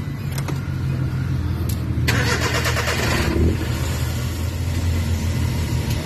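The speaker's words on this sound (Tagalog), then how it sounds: "Okay, start natin makina." A Suzuki Multicab mini truck engine cranks briefly with a whirring starter, then catches and settles into a steady mid-pitched idle rumble, close by.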